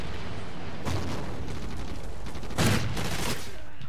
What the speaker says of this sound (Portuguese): Tiro de 12 é queima-roupa, mano.